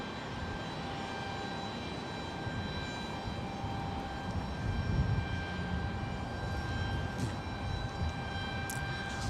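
A jet airliner taking off from runway 30 right at San Jose Airport gives a steady, broad engine roar with a slight swell midway, heard from a distance with no one talking.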